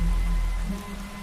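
Steady rain patters down in a cartoon scene, a dense, even hiss of drops on a surface with low rumble underneath, continuous and moderately loud throughout with no voices.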